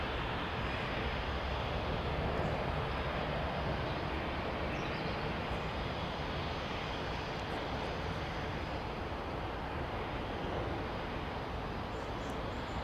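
Steady, distant jet roar of aircraft at Heathrow Airport fills the whole stretch as an even, unbroken wash of engine noise with no voices.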